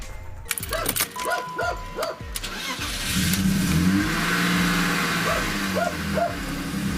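A BMW E39 engine cranks and catches, then runs unevenly with revving bursts, close by, with a few short voice sounds over it.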